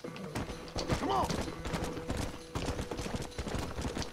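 Galloping horse hooves in the Red Dead Redemption video game, a quick repeated clip-clop rhythm running throughout under busy game sounds and a whinny-like cry near the start, with a voice talking over it.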